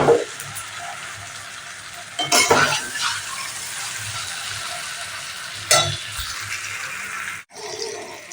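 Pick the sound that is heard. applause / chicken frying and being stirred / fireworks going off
chicken frying and being stirred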